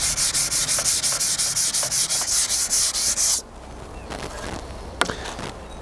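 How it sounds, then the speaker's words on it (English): Sanding wood by hand with 220 grit sandpaper, loud close rhythmic rasping strokes in a steady back-and-forth pattern, then stopping to quieter handling noises and a single knock. "I'm just going to take a little sandpaper 220"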